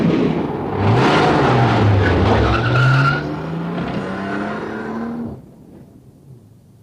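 A car speeds toward onlookers, tires squealing in a long rising skid with engine roar, loud and close, before easing off into quieter running at the end.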